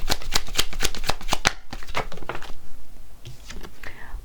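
Tarot cards are shuffled and drawn in a rapid series of crisp riffling snaps and flicks, followed by a few softer slides and taps as cards are laid out, close and clear.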